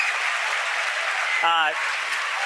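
A broad, continuous wash of cheering and applause from a crowd at SpaceX headquarters in Hawthorne, heard after a Falcon 9 first-stage landing on a drone ship, holds steady throughout, with a brief voice cutting in partway.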